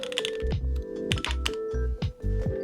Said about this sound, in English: let's do an actual typing sounds test